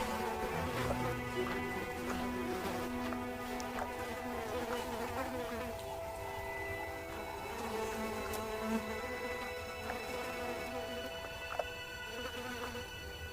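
Flies buzz around resting lions in hot sun, a steady, dense insect drone with several overlapping wingbeat tones close to the microphone.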